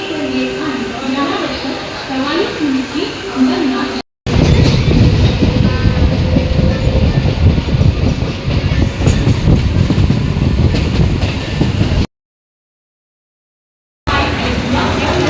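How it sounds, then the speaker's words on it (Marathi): A train rumbles along the tracks with rattling, clattering wheel noise and voices talking over it, interrupted by short dropouts. "तर ट्रेन पण भेटली"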